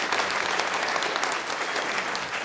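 Dense, steady applause from an event audience fills the room at a One Book, One Burnside gathering in 2011, sustained and even throughout with no pauses.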